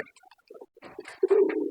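Pigeons brooding eggs coo in a low, soft voice, starting as faint scattered calls and building into a steady, closer coo near the end of the clip.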